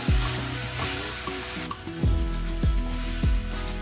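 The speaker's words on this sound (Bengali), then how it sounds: "হয়ে গেছে ডালের সাথে কষানো" Masoor lentils fry in a pan with vegetables under a continuous sizzle, with a few louder stirring swishes near the end, close and steady, no speech.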